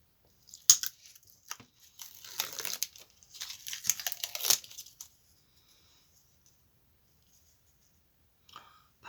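Carpet tape is pulled from a roll in several crackling, ripping bursts, sharp and close, followed by quiet and then one brief rustle at the end.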